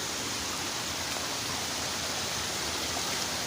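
Water streaming over a rocky hiking trail on the way to Kawah Ratu via Pasir Reungit, a dense, steady rushing wash heard up close, unbroken and with no talking.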